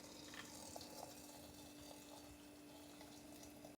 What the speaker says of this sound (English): we're going to pour some hot water inside of it like this